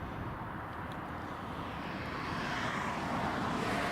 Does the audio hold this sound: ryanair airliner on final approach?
yes